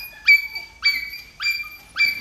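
Golden retriever puppies in a litter of nine give four evenly spaced high, thin whimpering yips, close and fairly loud over a quiet background.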